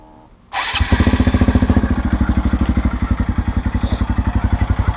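A Honda Grom motorcycle fresh from an oil change fires up after a brief quiet moment, then settles into a loud, steady, rapid thumping idle close by.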